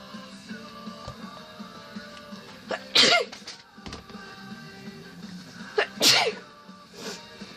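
Two loud sneezes from a person, a few seconds apart, each a sharp explosive burst over quiet indoor background noise.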